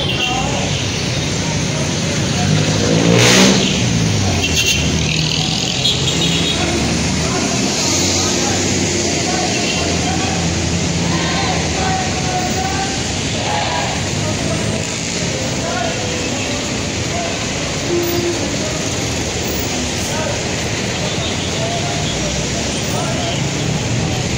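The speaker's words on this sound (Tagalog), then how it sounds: "Maraming sasakyan tumatawid." Many vehicles pass along EDSA in Manila during a student rally, a steady, even roar of road traffic that holds throughout, with faint voices mixed into the background.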